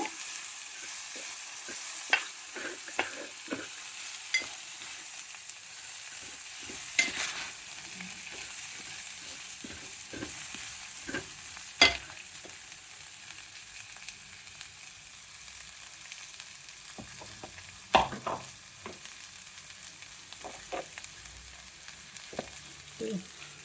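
Lentils fry gently in a pan for ridge gourd dal, a low continuous sizzle broken by scattered clicks and scrapes of stirring, no voices.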